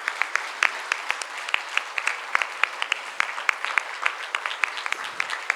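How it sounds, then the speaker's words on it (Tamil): Audience applause at a felicitation ceremony for a classical dance debut, sharp, rhythmic clapping that sounds unified and steady throughout, fairly close and moderately loud with no talk over it. "நல்ல கரகோஷம் கொடுங்க."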